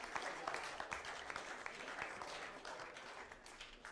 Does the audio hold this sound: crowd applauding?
yes